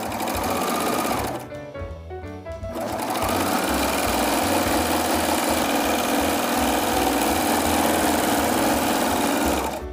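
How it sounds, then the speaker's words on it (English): A serger sewing machine runs along the short edge of a folded pillowcase fabric, a loud steady whirring buzz that pauses briefly near the start, then resumes and carries on continuously. "with my serger, I'm going to serge down the short edge."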